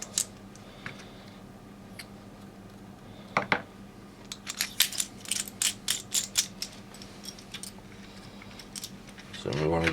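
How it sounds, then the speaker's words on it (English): A small screwdriver tightens screws on the servo mount of a Vaterra V100-C RC drift car with a Turnigy TGY-D003HV servo, giving a run of close, quick clicking ratchet-like ticks with a short burst of handling noise. "so we can then tighten these up again"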